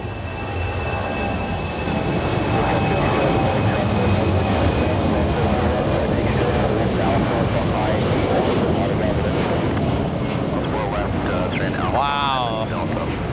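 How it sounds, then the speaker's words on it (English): A C-17 military transport plane taking off at JFK produces a loud, sustained roar close by with a rising whine, and a voice speaks briefly near the end. "C-17 taking off."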